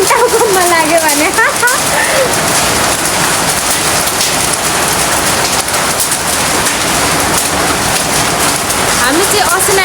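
Hailstones fall steadily in a broadband patter during a hailstorm, loud and continuous throughout, with a dog barking briefly near the start and voices heard faintly.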